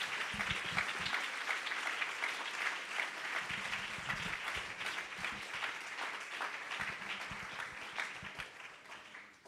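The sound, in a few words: congregation applause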